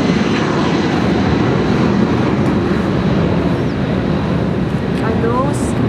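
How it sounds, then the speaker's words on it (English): A fixed-wing airplane passes close by near a runway by a creek in a Philippine shanty area, its engine roar loud, broad and steady throughout, with faint chirps over it. "that's the plane. I'm so near the runway."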